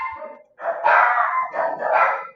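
Dogs barking close by, a couple of loud, drawn-out barks that merge into whining yips, heard alone without talking.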